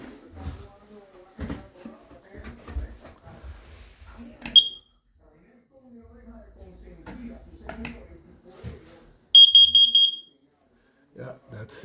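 Carbon monoxide and smoke detector giving its test signal: a brief high-pitched beep, then a longer burst of rapid loud beeps, set between stretches of nearby talking.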